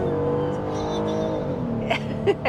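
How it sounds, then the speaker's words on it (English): A 2022 Kia Carnival minivan pulls away under full throttle, its engine note climbing steadily and close by from inside the cabin, with a few brief thumps and bumps near the end. "Sweetie's at the wheel and she's gonna floor it"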